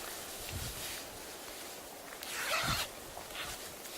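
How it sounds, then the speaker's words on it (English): A single quick zip runs along the side zipper of REI convertible hiking pants, one short close rasp heard over a faint steady background hiss, with no talk. "zip up the side so that you can take them off and you don't have to bend over"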